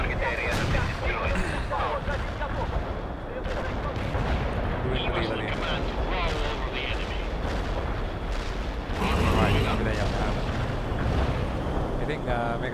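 Heavy artillery blasts and rumbling explosions from a facility strike in World in Conflict, a dense, continuous barrage of booms and gunfire filling the clip, with a louder surge of detonations near the end.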